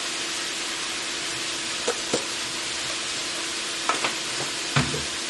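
Broccoli sizzles in a hot pan for chicken vegetable lo mein, a steady close frying hiss throughout with a few sharp clatters and stirring knocks near the middle and end.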